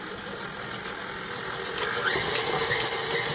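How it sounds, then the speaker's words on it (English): A KitchenAid stand mixer with a white paddle attachment and locked bowl runs on low, creaming shortbread dough flavored with almond extract; a steady motor whir with faint mechanical clicking holds throughout. "KitchenAid mixer, locking our bowl down using the white paddle attachment, locking the bowl starting on a low temperature"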